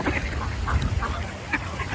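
Ducks and geese quack and honk close by in a short burst of overlapping calls, loud and busy.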